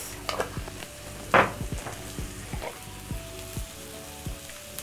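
Onions sizzling with paprika, salt and pepper as they are stirred, a soft frying hiss under scattered scrapes and taps of a utensil on the pan, one sharp clack standing out.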